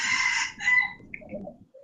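A rooster crows once, close and fairly loud, its call trailing off into faint clucks, heard alone without talk.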